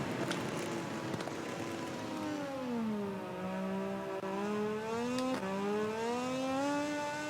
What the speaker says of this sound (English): And they accelerate hard out the hairpin.